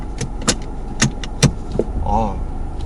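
A Ford Mustang's manual gear shifter clunks several times, sharp mechanical knocks spaced about half a second apart, close up, followed by a brief low hum.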